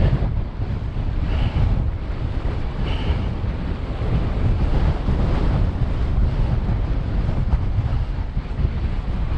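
Wind roaring steadily past the microphone while an e-bike climbs a mountain road into a headwind, a loud, continuous low rumble and buffeting that fills the whole stretch without letup, no speech.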